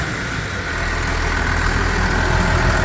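Car engine idling with a steady low rumble and constant mechanical hum, close and fairly loud, holding an even drone throughout with no voices.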